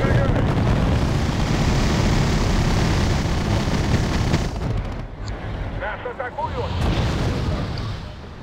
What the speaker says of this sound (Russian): Артиллерия ведет по нам огонь.